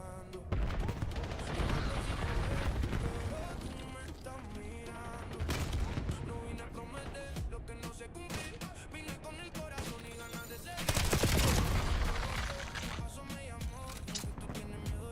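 Call of Duty gunfire comes in several loud bursts of rapid shots, spaced a few seconds apart, over a busy bed of in-game sound and music.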